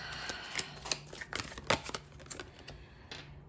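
Crisp, irregular riffling and soft slaps of tarot cards being shuffled by hand, close up, in short bursts with brief pauses, no talking.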